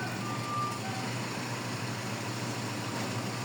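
Reversing beeps sound from a large truck in the distance, a few short tones early on over steady engine rumble and outdoor background noise.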